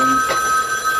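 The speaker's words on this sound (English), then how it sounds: "that's the phone." A telephone rings inside a home in Appalachia, a steady electronic bell tone sounding loud and close for a brief moment, with no talking.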